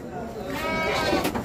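Goats bleat repeatedly at a livestock market in Santo Tomas, Batangas, where animals sold by weight for slaughter are kept. The cries are close and fairly loud, overlapping with people talking nearby throughout.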